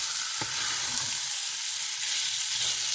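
Beef stroganoff seasoning sizzles steadily in a frying pan while a spoon stirs and scrapes the bottom, with a few distinct scraping knocks over the constant hiss.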